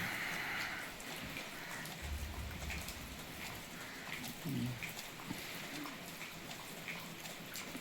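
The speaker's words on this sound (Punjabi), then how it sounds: "ਲਓ ਜੀ ਮੀਂਹ ਪੈ ਰਿਹਾ ਪੂਰਾ ਫੁੱਲ" Heavy rain on a dark morning in a rural village with cattle, a dense constant hiss of falling drops throughout, fairly distant and even.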